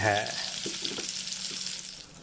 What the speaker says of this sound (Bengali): দেখো বেগুনগুলো ভাজা চলছে, এপিট ওপিট করে